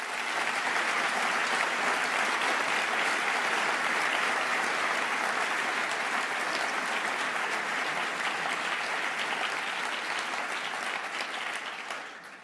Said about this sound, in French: j'aimerais que nos applaudissements l'atteignent